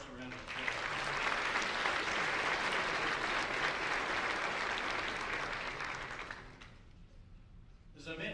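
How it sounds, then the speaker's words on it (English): Audience applause at a university assembly welcoming new faculty members, a broad sustained wash of clapping from a large crowd that fades out near the end. "So let's give all those new folks a round of applause."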